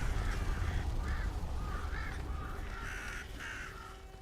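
A crow caws repeatedly in the fantasy game Tainted Grail, about half a dozen harsh calls coming in an uneven rhythm over a steady low ambient rumble.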